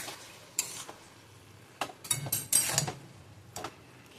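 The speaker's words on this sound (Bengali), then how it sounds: "দিয়ে ভালো করে আবার এটাকে আমি কষতে থাকবো।" Ash gourd sautéed with salt in a pan, heard as scattered scraping stirs and clinks of a spatula against the pan, with a soft sizzle between them, close and fairly quiet.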